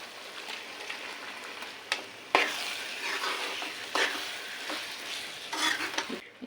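Raw prawns fry with salt in a pan for a prawn tomato curry, crackling in a close, steady sizzle as a spoon stirs and scrapes them in repeated bursts.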